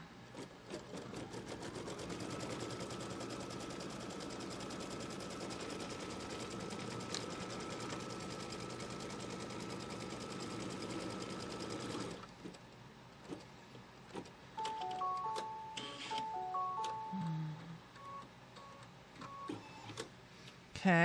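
An embroidery sewing machine runs a tacking stitch from left to right on quilt fabric, a steady mechanical whir for about twelve seconds that stops, followed by scattered clicks and small handling noises.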